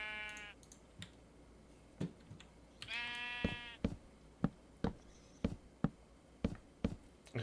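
Sheep bleat in a video game, with two clear harmonic bleats standing out over a steady run of sharp clicks that sound like keyboard or mouse presses.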